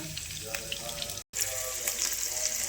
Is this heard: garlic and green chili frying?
yes